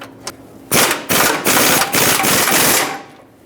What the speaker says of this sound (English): Hold the mounting nut, tighten the bolt.